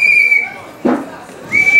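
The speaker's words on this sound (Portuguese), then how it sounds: "pedir para o que estiver no apito segurar, senão o Claudinho não consegue falar" A sustained shrill whistle blows through a city council plenary chamber, stops briefly beneath a burst of crowd noise, then shrills again, loud and close.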